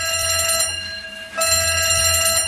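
A fire alarm at Notre Dame cathedral in Paris rings as a steady, loud electronic tone with bright harmonics. It dips briefly near the middle, then resumes at full strength.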